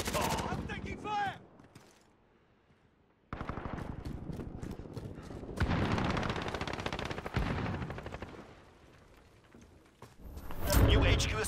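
Rapid bursts of video game gunfire crackle during a battle over a captured HQ, alternating with quieter stretches; a voice calls out at the start and later, with the shots dense and fairly close.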